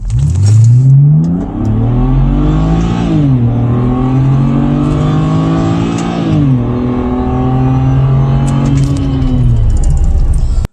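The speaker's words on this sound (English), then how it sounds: "we press start, and then we're going to floor it again" A car floored from a standstill at full throttle, its engine revving loud and close, climbing in pitch through several gear changes with brief dips between them, then running on steadily with no talk over it.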